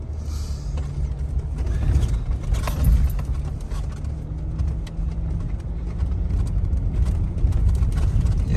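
An off-road vehicle with adjustable shocks rumbles steadily along the rough Rocky Gap Trail in Nevada, a continuous low engine and drivetrain drone with faint rattles throughout.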